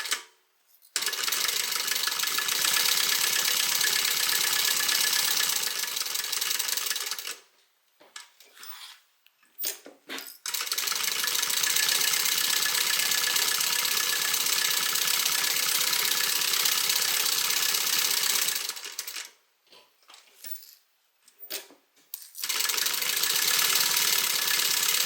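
A sewing machine runs in long steady bursts, basting a seam on a Harumi bag, with whirring stitching that pauses briefly a few times before starting again, close and clear.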